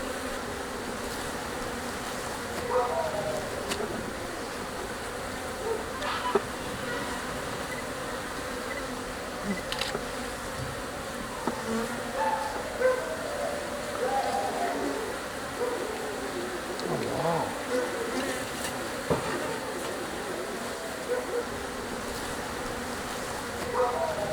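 Honey bees buzzing around an open, queenless hive during an inspection: a continuous close drone of many bees, with individual insects passing near and away for the whole stretch.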